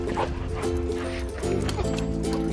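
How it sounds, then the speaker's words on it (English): Dogs barking, yipping and whimpering as they play together, loud and close over background music, with voices now and then. "we're bringing her over to play with our dogs"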